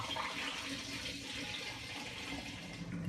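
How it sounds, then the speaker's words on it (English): Homemade hard cider made from apple juice pours steadily into a glass demijohn, a continuous close gurgling, splashing rush with no talking. "it's now just a case of pouring back into the original demijohn"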